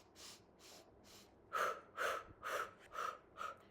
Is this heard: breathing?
yes